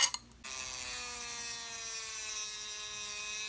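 A Dremel rotary tool spins up and holds a high, steady whine while cutting metal rods during a Dynaco ST70 amplifier restoration, with a short clatter before it starts.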